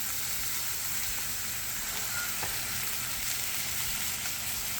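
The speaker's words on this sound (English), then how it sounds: "But now this will be the time where you add your butter. Unsalted butter. It's going to smoke a little bit" Unsalted butter sizzles and spits steadily in a hot pan beside seared halibut, a continuous close frying hiss with faint stirring movement and no voices.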